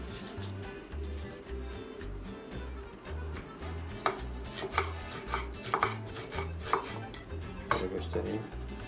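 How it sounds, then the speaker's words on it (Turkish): A knife chops tomatoes rapidly against a cutting board in quick, even strokes, with light clinks of utensils and soft background music underneath. "Domateslerimi aynı şekilde yine çok küçük olmayacak şekilde doğrayacağım."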